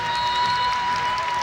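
Basketball fans at a Canadian pro league finals game cheer and applaud in a dense, continuous arena roar, loud and close with no clear breaks.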